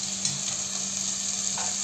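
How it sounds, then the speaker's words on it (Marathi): Onions sautéing in oil in a pan for a mutton dish, a steady close sizzle with faint stirring scrapes throughout, no talking. "कांदा छान असं मस्त सोनी रंगावर परतून घ्यायचा"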